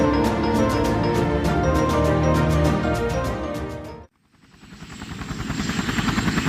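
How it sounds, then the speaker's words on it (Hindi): A cartoon helicopter flying, with loud rapid rotor chopping and an engine whine that cut out abruptly, then return as a pulsing beat that builds in volume. "हेलीकॉप्टर बॉर्डर की ओर जा रहा था।"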